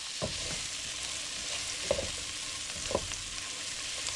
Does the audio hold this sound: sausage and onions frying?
yes